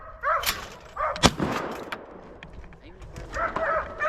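Shotgun fired at a clay target on a Southwest Virginia bird hunt: one sharp, loud report near the middle, with people calling and talking around it outdoors.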